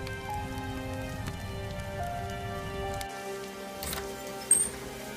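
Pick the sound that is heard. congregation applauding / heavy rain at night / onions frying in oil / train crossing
heavy rain at night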